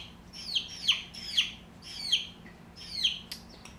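Phoenix chicks give soft, high peeping chirps in a short series of about seven calls, fairly close and gentle, with faint background hum and no talk.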